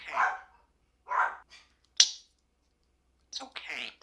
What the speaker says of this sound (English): He's barking like a dog.